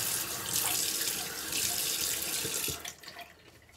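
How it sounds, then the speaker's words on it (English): Tap water runs in a steady, close stream into a sink to wet shaving lather for a straight razor shave, then cuts off and leaves brief quieter trickles. "So I'll add a little bit more water."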